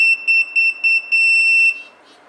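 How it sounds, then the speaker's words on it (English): A Retekess T119 restaurant pager gives five short, sharp electronic beeps in a steady rhythm, then one longer tone. The sound is close and clear, with no talking. "I will press it. Only the lights and beeper."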